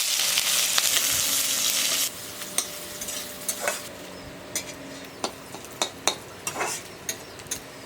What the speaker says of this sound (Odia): ଏବେ ପିଆଜ କଟା ପକାଇଦେବ।